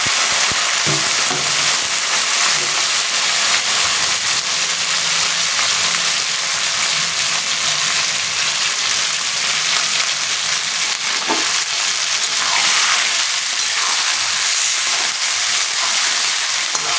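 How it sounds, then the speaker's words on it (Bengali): Mutton pieces frying in hot oil in a pan for a Bengali curry, a loud continuous sizzle with occasional stirring scrapes, close by and steady throughout with no talking. "এবার এই মাটনটাকে আমি সুন্দর করে কালারটা যতক্ষণ না চেঞ্জ হচ্ছে ততক্ষণ কিন্তু আমি এটাকে একটু ভেজে নেব"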